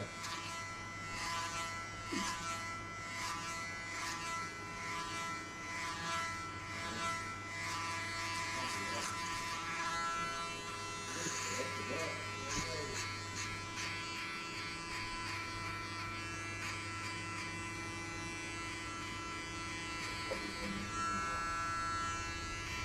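Electric clippers with a number 3 guard buzzing steadily through hair for a buzzcut, a close, continuous hum that lasts throughout, with faint talk underneath.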